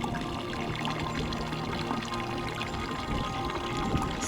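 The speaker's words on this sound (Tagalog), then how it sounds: "Paminsan-minsan may madadaan ng bukal ng malinis na tubig." Cold, clean spring water pours and splashes from a mountain source in Korea in a continuous, close, moderately loud gush, with no talking over it.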